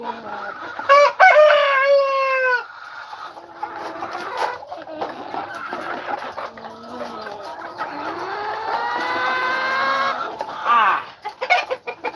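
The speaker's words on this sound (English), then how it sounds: "this rooster here is not happy that Shadow is his new neighbor" An aggressive caged rooster crows loudly several times in drawn-out, wavering calls, with clucking between them, close to the microphone.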